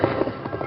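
Hoofbeats of a horse named Blackie clip-clop in a quick, uneven rhythm for a brief moment, a muffled, close sound effect in an old western radio drama.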